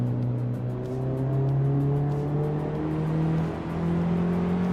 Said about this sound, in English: Axton Hitz is driving a 1978 Saab 99 Turbo.